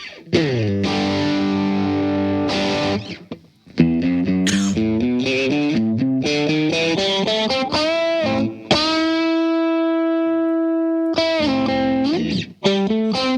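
A distorted electric guitar plays a fast melodic solo with sustained bends and held notes, dry and upfront with no echo.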